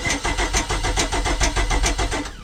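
A Mercruiser boat engine catches and runs with the choke pulled, fed from a one-gallon can, giving a loud, rough, pulsing idle close by that cuts off at the end.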